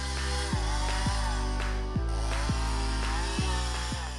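A chainsaw runs at a steady, loud whine while felling a giant oak nearly two meters across, with sharp low thumps and surges roughly every half second as the bar bites through the massive trunk.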